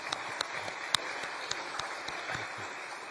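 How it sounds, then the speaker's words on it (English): Applause from a conference audience at the closing session of the Commonwealth Women's Forum, with steady crowd clapping and a few sharper individual claps standing out throughout. "I think a round of applause is up"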